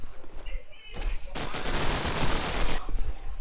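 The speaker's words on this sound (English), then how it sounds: "As Dins will down Blade Star with his SMG" SMG fire in a competitive video game match at a LAN playoff: a dense burst of rapid shots lasting about a second and a half, heard under a commentator's excited voice.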